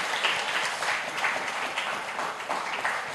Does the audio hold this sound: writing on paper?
no